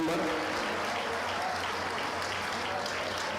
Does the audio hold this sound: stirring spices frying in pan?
no